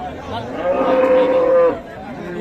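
A cow at a Bangladeshi cattle market for beef cattle gives one long, loud, steady moo close by, over a low murmur of background market noise.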